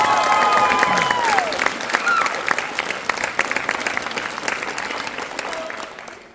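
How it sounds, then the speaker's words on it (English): Audience applause after a school play: steady clapping from a crowd with some cheering, fairly loud and continuous, fading slightly at the end. "So can we get another round of applause?"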